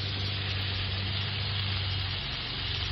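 Four burgers sizzle on a propane grill, giving a steady, even hiss with a low hum underneath, close and moderately quiet, with no talking.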